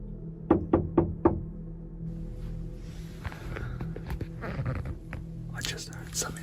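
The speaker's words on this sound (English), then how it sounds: "someone can be heard knocking on his door" Four quick, sharp knocks rap on a van door at night, close and loud, followed by faint rustling, shuffling and soft whispering.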